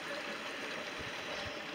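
Steady rushing of running water from a nearby stream, a continuous broadband wash with no voices.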